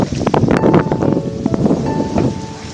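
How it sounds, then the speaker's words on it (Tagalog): Gusty wind buffets the microphone outdoors in rural Lipa, Batangas, rumbling in uneven bursts throughout, with faint background tones underneath. "mahangin, sariwa yung hangin dito."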